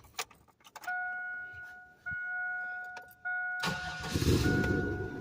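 A Chevrolet Blazer is started up: keys jingle, warning chimes beep in three short stretches, then the engine cranks and catches into a loud rumbling idle, heard close from inside.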